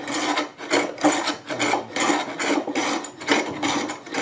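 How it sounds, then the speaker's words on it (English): Toothing plane scraping thick glue off a wooden marquetry surface, a rough rasping stroke repeated about eight times in a steady back-and-forth rhythm, close and loud with no talking. "This is a toothing plane"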